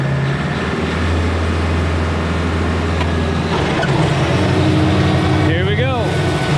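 A Kubota LX3310 tractor engine runs with a steady low diesel rumble, loud and close throughout, with a voice speaking over it.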